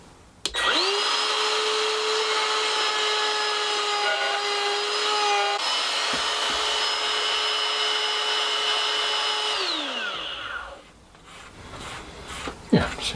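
A small ball end cutter routes wood in a small shed workshop while plant tray tampers are being made. It gives a loud, steady, close whine for about ten seconds, then spins down, with no talking.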